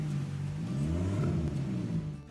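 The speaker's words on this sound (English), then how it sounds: "once they came back they said that it now sounds like a rally car." A car engine revving with a deep, rough rumble like a rally car after sitting parked in a garage, a steady loud drone with slight rises in pitch, close by and without talk.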